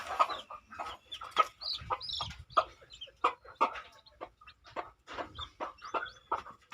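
A native desi hen clucks in short, repeated bursts at close range, a steady stream of soft clucks and chirps with little background noise.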